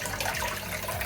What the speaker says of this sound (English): pump in that pond, pumps water up into this tub, into our watercress plantation, comes out through here in another sponge